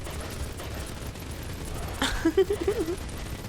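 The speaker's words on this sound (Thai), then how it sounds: "มา สาดกระสุนไป สาดกระสุนไป" Gunfire in the block-building game Mini World: Block Art, a short burst of rapid shots after a sharp report, with quick repeated pops close together against a busy game background.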